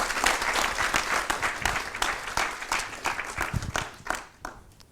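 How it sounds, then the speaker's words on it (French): Indoor audience applause for three speakers at a French talk, a dense burst of many hands clapping that stays steady for several seconds, then thins and fades toward the end. "On peut les applaudir, je pense."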